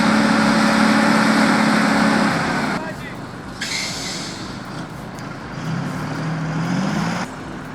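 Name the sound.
Kenworth 963 truck engine unloading a rig component with cable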